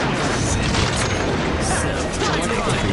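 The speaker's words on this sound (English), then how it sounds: "It's an explosion!" Explosion in Naruto Shippuden Ultimate Ninja Storm, a dense, loud, sustained roar of crashing and booming game effects filling the whole three seconds with no gaps.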